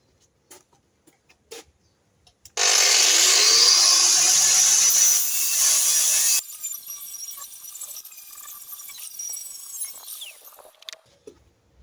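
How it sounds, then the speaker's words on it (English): An angle grinder cleans metal ahead of welding for homemade stilts, a loud, steady high-pitched whir that runs for about four seconds after a few light clicks, then winds down into scattered quieter scraping and taps. "I'm going to take a few minutes and just give them a whiz with the grinder"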